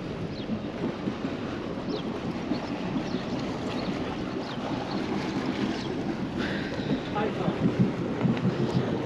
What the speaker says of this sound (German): Der Wind treibt uns eigentlich direkt rauf.